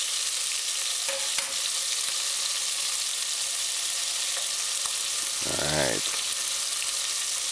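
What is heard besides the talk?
chicken frying in pan on stove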